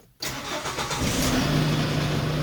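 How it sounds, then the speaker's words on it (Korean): A Hyundai Porter 2 truck engine cranks and catches with a fresh starter motor, then settles into a steady, loud idle that continues to the end, with no voices. "자 이제 시동 걸어볼까요?"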